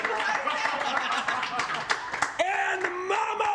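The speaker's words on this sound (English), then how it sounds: "keep the round of applause going" A live audience claps through a roast event. The applause is thin and fairly distant, with scattered claps and a voice speaking over it.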